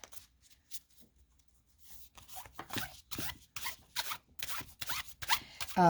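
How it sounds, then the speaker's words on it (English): Animal spirit oracle cards are shuffled by hand, giving a run of crisp, riffling bursts that start sparse and quiet, then come faster and louder, with almost no talking. "I'm going to, again, shuffle"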